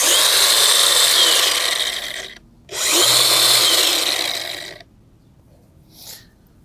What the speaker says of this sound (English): Let's see how quickly that brake works once you let go of that paddle.